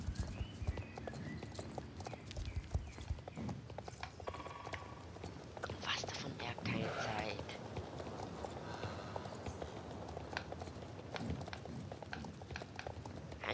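Horse hooves clip-clop steadily through a Star Stable Online ride, a continuous rhythmic trot with faint mechanical game sounds, no talk.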